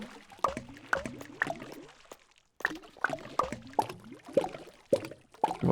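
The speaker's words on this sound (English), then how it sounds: "Oh, the splashing is so good." Water splashing in the video game Townscaper: a steady run of small, bright splashes and plops comes at a quick, uneven rhythm, loud and close, with one short pause near the middle.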